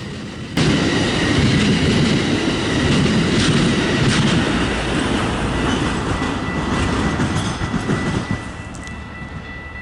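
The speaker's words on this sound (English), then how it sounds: "a 4-car Amtrak Hiawatha service train sandwiched between a pair of SC-44 Charger locomotives headed southbound for Chicago" A four-car Amtrak Hiawatha passenger train between two SC-44 Charger diesel locomotives rumbles past close by, wheels clattering rhythmically over rail joints with a steady engine drone and faint squeals, loud throughout and easing slightly at the end.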